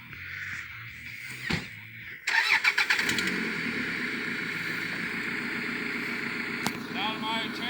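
A Camry-engined homemade bulldozer starting up: a starter whir, a quick stuttering catch, then a steady mid-pitched idle running close by, with a voice speaking over it.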